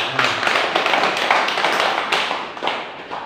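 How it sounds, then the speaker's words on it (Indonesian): Audience clapping hands at a religious gathering held at a police station, a dense, steady burst of many claps lasting a few seconds without speech. "Tepuk tangan."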